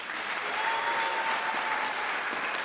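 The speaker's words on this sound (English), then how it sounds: "I think we can do better with that round of applause" Sustained applause from a graduation audience in Windhoek for the Chancellor after his address, a dense even wash of clapping held steady throughout with no talking.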